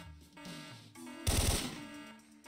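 Gunshots in the Syphon Filter video game, a short rapid burst of shots standing out loudly midway over a droning musical score.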